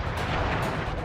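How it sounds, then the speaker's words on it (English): Fiery Flame Foo firework attack in the PS2 game Sly Cooper and the Thievius Raccoonus: a dense, continuous crackling roar of bursts and booms, loud and unbroken for the whole moment, with no speech. "I will send you to your doom with the beauty of my new firework technique"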